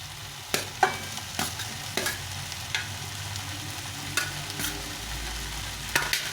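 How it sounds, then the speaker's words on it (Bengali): Cauliflower tossed into a thick spice paste in a pan, a steady sizzle with repeated scraping clicks from a spoon stirring every half second or so, close and fairly quiet, no voices. "মশলাটা মাখো মাখো হয়ে গেছে এখন আমি এর মধ্যে ফুলকপিটা দিয়ে দেবো"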